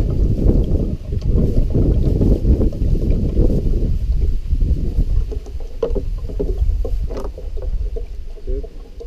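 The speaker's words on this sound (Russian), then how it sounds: "Ветер просто выносит." Strong wind gusting outdoors, buffeting the microphone with loud, continuous low rumbling that swells and eases, with faint handling clicks and no speech.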